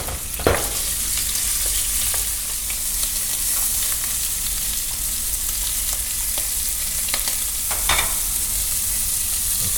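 Shrimp hitting hot oil in a wok for XO sauce shrimp and eggs, giving a steady, loud, broadband sizzle throughout with a few sharp spatters and clinks of a utensil.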